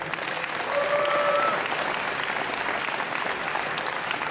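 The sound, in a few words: fans applauding at a wrestling event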